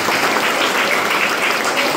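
A congregation at a prayer meeting claps together in a steady, dense, loud wash of hand claps that continues unbroken without any voices.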